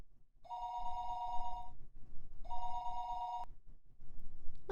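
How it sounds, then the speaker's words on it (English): A telephone rings in the visual novel Higurashi When They Cry, two clear electronic bursts of ringing with a pause between, fairly quiet and alone. "Keiichi, are you awake? You have a phone call."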